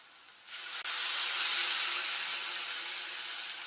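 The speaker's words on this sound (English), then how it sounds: "the first thing we're going to do is we're going to add in this sauce" Sauce poured into a hot pan of porcupine meatballs, hitting the surface with a sudden loud, steady sizzle and hiss that starts after a brief quieter moment and holds strong throughout, with no talking.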